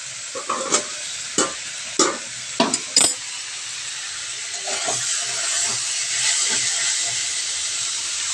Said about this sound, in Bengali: এদিকে হচ্ছে আলু আর কপিটা সেদ্ধ বসিয়েছি